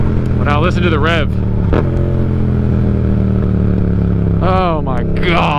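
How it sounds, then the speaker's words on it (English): A motorcycle engine fitted with a new exhaust rumbles loudly and close by, with sharp rising revs near the start and again toward the end, while a voice talks over it at times. "Listen to the rev."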